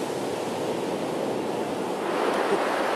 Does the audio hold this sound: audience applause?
no